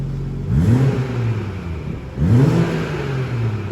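BMW 340i M Sport (F33) in sport mode with both exhaust valves open, revved twice from idle, each rev a loud rising engine roar that settles back to a deep hum, close and alone.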